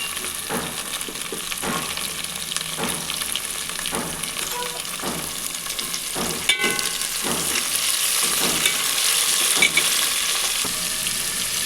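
Tomatoes and onions fry in a pan for a prawn and okra curry, a steady broadband sizzle running the whole time with regular stirring scrapes about once a second, close and fairly loud, no voices.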